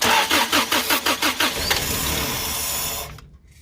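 Toyota 22R-E engine, just back from a top end rebuild, cranking with about nine rhythmic starter pulses, then a brief rough catch into a low running rumble that cuts out abruptly; close and loud, with no talking.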